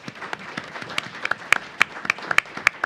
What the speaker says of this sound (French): Je pense qu'on peut applaudir aussi les intervenants.